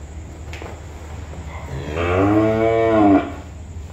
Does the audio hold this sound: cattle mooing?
yes